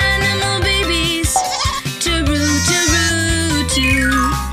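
Sheep bleat in wavering, drawn-out cries, loud and close, mixed with a bright musical backing that runs continuously beneath the calls.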